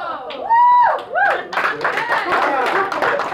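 A stand-up comedy audience claps and cheers in a brief, dense burst of hand claps and whoops, while a performer's voice talks over the start.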